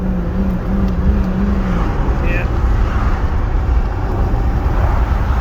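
A $1,200 beater car drives along and speeds up, with a steady engine and road rumble heard from inside the cabin while someone talks briefly.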